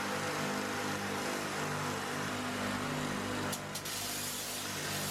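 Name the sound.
belt polishing a chrome bumper with 40 grit belt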